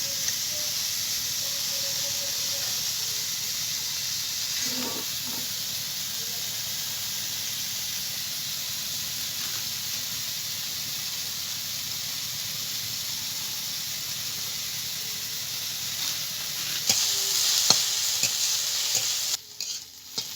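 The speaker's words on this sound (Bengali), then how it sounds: "চিংড়ি মাছগুলো ভাজা হতে আমি শাকগুলোকে কেটে নেব।" Prawns fry in hot mustard-style oil in a kadai, a steady close sizzle with a few spatula scrapes, the crackle rising and growing busier near the end; no one speaks.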